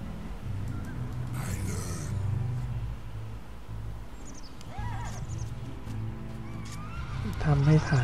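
Horse whinnies in the real-time strategy game Battle Realms, several short neighs at moderate distance over a low steady game rumble, with someone speaking throughout.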